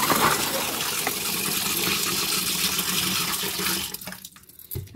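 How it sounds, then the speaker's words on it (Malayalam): Water gushes into a pressure cooker full of sweet potatoes in a home kitchen, a steady close pour lasting about four seconds before it cuts off, followed by a couple of faint clinks. "ഈ കുക്കറിനകത്ത് ഇത്രയും മധുരക്കിഴങ്ങുണ്ടെങ്കിൽ നമുക്കിത് വെള്ളം ഒഴിച്ച് അടുപ്പത്തേക്ക് വയ്ക്കാം"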